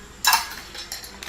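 Flour and salt being stirred in a bowl for homemade KFC-style fried chicken coating, a couple of short scraping clinks of a utensil against the bowl, close and fairly quiet.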